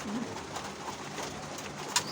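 A domestic pigeon gives a soft, low coo near the start against a faint background hiss, with a brief sharper knock near the end and no one speaking.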